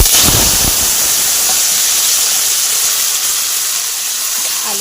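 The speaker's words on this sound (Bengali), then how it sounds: "আলুগুলোকে লাল লাল করে ভেজে নিব।" Potatoes frying in hot oil in a wok give a steady, loud, close sizzle and hiss throughout, with a brief low clatter at the start as they go in.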